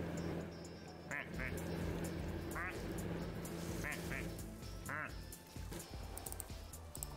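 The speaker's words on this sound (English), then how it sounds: "Ooh, black duck." Black duck quacking in a casual video game, several short quacks recurring over steady background game music and sound effects.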